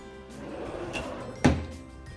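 A drawer in a craft room storage unit holding cutting mats slides open, with a soft rolling sound building to one sharp thump near the end, close by and alone, with no talk.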